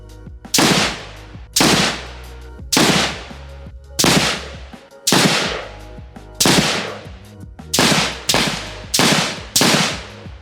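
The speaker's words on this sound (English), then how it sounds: "we did the base test for you and you heard all three guns" Unsuppressed AK Krink and AK-101 rifles and a DDM4A fired one at a time at steady intervals, nine sharp loud cracks with brief echoing decay, no talking.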